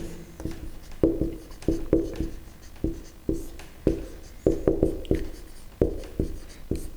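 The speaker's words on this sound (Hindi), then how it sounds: "हम यहां एक लाइन लिखेंगे" Chalk or marker writing a line on a classroom board during a science lesson: a rapid series of sharp taps and short scratchy strokes, close and distinct, in an irregular rhythm with brief pauses and no talking.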